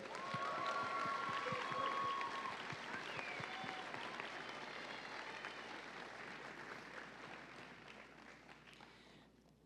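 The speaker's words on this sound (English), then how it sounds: "Let's give her another round of applause." A folk festival gala audience in Burley gives Christine another round of applause, steady full-room clapping that holds loud at first and slowly tapers over about ten seconds, with a few faint voices underneath.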